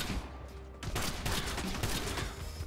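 Rapid gunfire in the video game Kill the Crows, a dense, loud burst of overlapping shots that keeps going almost without pause after a brief quieter opening.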